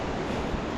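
A monsoon waterfall beside the Yamunotri trekking path, a brief, loud, even rushing roar of falling water.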